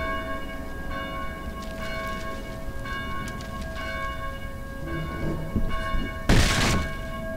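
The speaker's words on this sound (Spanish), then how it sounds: "Please help us silence these bells." In the zombie game Dead Island, church bells ring steadily from a belfry, several clear tones repeating at a moderate distance over a rumbling background, and a brief loud crash comes near the end.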